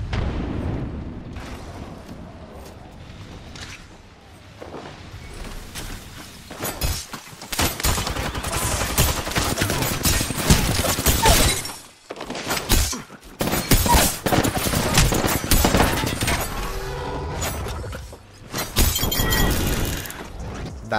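Thermite grenade and gunfire in the Apex Legends video game: dense, loud bursts of shots and crackling impacts with brief gaps, heavy chaotic firefight texture throughout.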